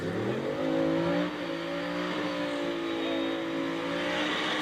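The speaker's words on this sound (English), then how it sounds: "Left side of the track, Ryan Fowler with the purple S10. I believe turbocharged LS power on this." A purple Chevrolet S10 with a turbocharged LS engine accelerating on a street race track, its loud engine note climbing steadily in pitch through the gears, close and continuous.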